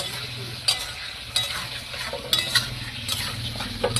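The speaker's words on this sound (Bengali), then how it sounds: "এখানে আমি কেটে রাখা টমেটোগুলো এবার দিয়ে দিচ্ছি।" Chopped tomatoes are stirred into masala frying in oil. A spoon scrapes the pan in regular strokes over a steady, close sizzle.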